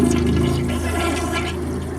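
An outdoor toilet flushes with a loud, steady rush of water draining away, heard close and alone for two seconds.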